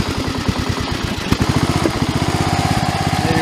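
A Craftsman riding mower engine idles steadily after being revived, a loud close rapid chugging pulse that holds an even rhythm throughout with no talk.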